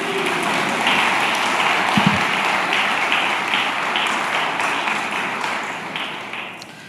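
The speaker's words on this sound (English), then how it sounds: "A round of applause for Kathy, please." An audience at a disclosure conference applauds, dense and sustained clapping filling the whole stretch at close, even loudness and tapering only slightly near the end.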